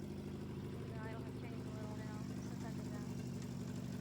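A 1987 Nissan 200SX S12 idles with a steady, low, even rumble that holds throughout, while a voice talks quietly over it.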